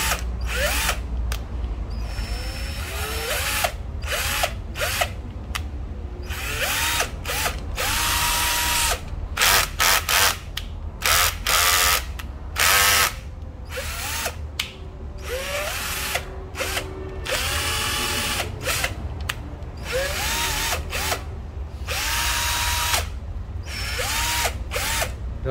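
A cordless 12V battery drill with a 10 mm chuck and LED light runs in repeated short bursts, its motor whining up and cutting off again and again, close and loud with no talk.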